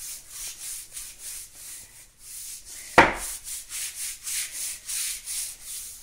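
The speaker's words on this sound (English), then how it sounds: "I'm using the outdoor broom, which has a very rustic hard surface, just to give a little quick rub in between the gaps." A hard-bristled outdoor broom scrubs back and forth between gaps in a kitchen floor in steady rhythmic strokes, close and moderately loud, with one sharper knock or scrape about halfway through.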